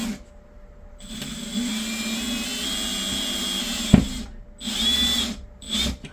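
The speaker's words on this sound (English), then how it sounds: "you could use an electrical screwdriver" Electric screwdriver driving a metal drywall anchor into a wall, a steady whirring motor run of about three seconds ending in a sharp knock, then two shorter bursts of whine.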